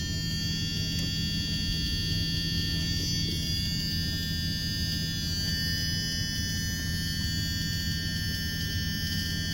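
Dash buzzer of a Tiffin RV motorhome with a 12-volt dash electrical fault, sounding as a steady continuous tone over a low electrical hum for the whole stretch, with no pauses.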